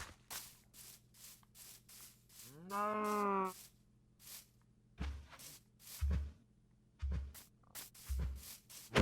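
A cow in a video game gives one long, clear moo with rising and falling pitch, surrounded by repeated rhythmic scraping and rubbing noises and low thumps.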